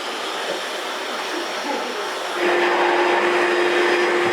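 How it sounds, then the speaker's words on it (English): A household vacuum cleaner runs steadily nearby with a loud broadband whoosh, its pitch and intensity stepping up partway through as a sustained whine joins in, with no talking. "It's always a bad idea to bring out the vacuum"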